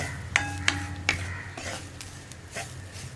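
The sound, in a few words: grated coconut being stirred in a hot pan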